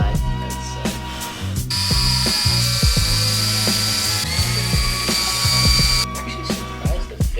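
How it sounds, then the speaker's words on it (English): A power drill whines in short bursts with pauses between, loud and close, drilling holes into a Subaru spoiler being fitted to a Honda Civic Si, with clicking and ratcheting mechanical sounds throughout. "Now that we got all the holes cut out, it's time to drill this in."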